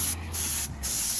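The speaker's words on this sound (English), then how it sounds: "you don't want to turn this upside down while you're spraying" Aerosol spray can misting paint onto a car part during prep for clear coat on a 2003 Cadillac CTS driver's quarter panel; two short close hissing bursts separated by a pause, with no talking.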